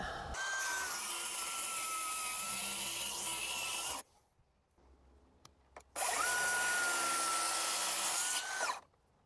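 A power saw on a sled rip through a 29-inch cut in wood for a kitchen island, two long loud whining passes of about four and three seconds with a quiet pause between.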